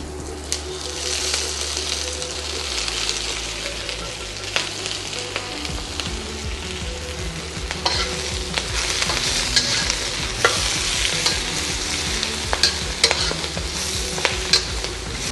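Shrimp and leafy greens are stir-fried in a hot wok for noodles, with a continuous close sizzle broken by repeated scraping and tossing strokes of the spatula.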